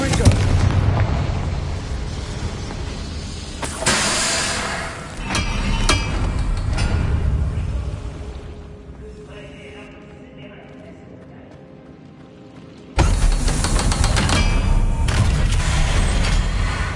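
Confringo explosive spell cast in the game Hogwarts Legacy on PS5, heavy booming blasts loud and near, with a sustained rumbling burst, a quieter lull, then another strong blast; speech is present.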